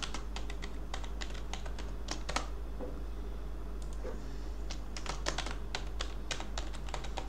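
Someone types a password on a computer keyboard while setting up a MySQL database on Windows. Rapid bursts of clicking keystrokes sound close up, with short pauses and a steady low hum underneath.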